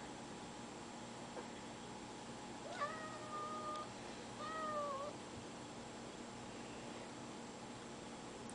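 A cat meows twice for sardines, two short rising-and-falling calls a second or so apart, close by in a quiet indoor room with a faint steady hum underneath.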